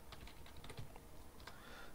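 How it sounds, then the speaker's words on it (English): Keys clatter on a computer keyboard as commands are entered at a Linux terminal, quiet and irregular taps running steadily through the whole stretch. "I'm typing something incorrect"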